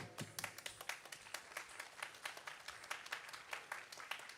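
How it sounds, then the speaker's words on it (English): An audience at a Bharatanatyam arangetram claps steadily, a continuous patter of many hands that sounds distant and faint, with no voices over it. "Keep it going, keep it going, keep the applause going."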